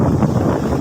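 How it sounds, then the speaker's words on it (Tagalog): Loud wind buffets the microphone in a continuous low rumble, gusting unevenly with no voices present. "Kaya pasensya na kayo kung maririnig nyo ay puro hangin."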